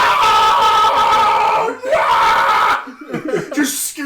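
A voice imitates an anime character screaming in pain, giving long, loud, strained wails that break into laughter and chuckling from others near the end.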